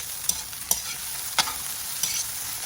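Sardines sautéing in a pan with a mix, a steady sizzle broken by several sharp stirring scrapes and clinks spaced through the clip, close and fairly loud with no talk.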